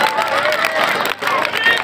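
A crowd at a malakhra wrestling bout claps and cheers in a loud, continuous wash of noise. Voices run through it, and there is one brief dip near the middle.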